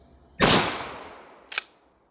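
A single loud blast from a GForce Arms GFPG3 12-gauge pump action shotgun firing buckshot at a 15-yard target, booming once with a long fading decay, followed a second later by a short sharp click-clack.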